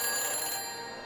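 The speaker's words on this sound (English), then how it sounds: "Please recite the phone number you wish to dial, or say hang up to terminate your phone helmet experience." A phone helmet in the Back to the Future video game rings, giving a brief electronic telephone bell that fades slightly over about a second, heard alone.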